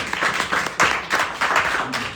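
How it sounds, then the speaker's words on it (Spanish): Audience applause at a book presentation in a bookshop, a dense, steady wash of many hands clapping at close range, with a few louder swells and no speech over it. "Aplaudidos a vosotros y a vosotros mismos, por favor"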